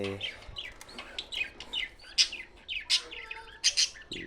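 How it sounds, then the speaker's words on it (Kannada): Chicks on a farm chirping in high, quick overlapping peeps, close and fairly loud, with a faint low cluck underneath. "ಇದೊಂದು ಮರಿ ಇದೆ, ಇಲ್ಲೊಂದು ಮರಿ ಟೋಟಲ್ಲು 4 ಮರಿ ಇದ್ದಾವೆ."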